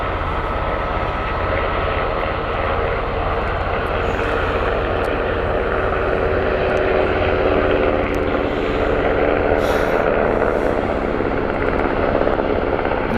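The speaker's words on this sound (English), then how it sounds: "This is a Qatar Sikorsky." A Qatari Sikorsky helicopter lifting off at Stansted Airport on a foggy day, its engine and rotor making a steady, loud roar that runs the whole way without pause.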